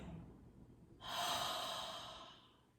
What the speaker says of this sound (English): And then open your mouth, exhale.